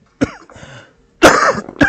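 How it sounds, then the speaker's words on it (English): Close, harsh coughing: a short cough, a pause, then two more rough coughs in quick succession. "I can't help the coughing, guys."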